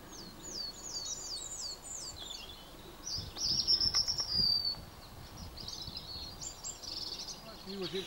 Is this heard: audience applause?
no